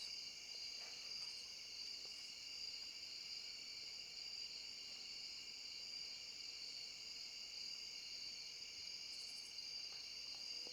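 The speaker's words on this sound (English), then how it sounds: "Some very relaxed cricket sounds." Crickets chirp in Stardew Valley, a steady high continuous drone of layered insect trills, soft and constant throughout, with faint background texture.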